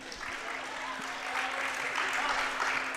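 Spectators clap at a girls' varsity high school basketball game between Caston and Faith Christian, making steady, moderately loud applause from the stands that lasts the whole moment.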